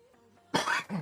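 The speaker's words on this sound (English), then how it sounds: "I'm coughing like crazy." A sudden harsh cough bursts out after a quiet moment, a rough burst followed by a short second cough, close and loud.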